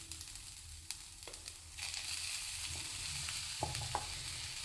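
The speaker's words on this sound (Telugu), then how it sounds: "ఇప్పుడు ఈ కొబ్బరి ఎంత వరకు వేగిందమ్మా" Coconut fries in a pan with a soft, even sizzle that swells after a few quiet seconds, broken by occasional clinks and scrapes of stirring.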